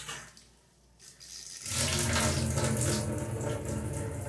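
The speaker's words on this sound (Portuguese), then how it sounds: "Aqui é a nossa torneira, só feito com reciclagem aí" Water gushes from a homemade tap built from recycled PVC pipe, starting after a quiet moment and then pouring steadily and loudly until the end, with no talking.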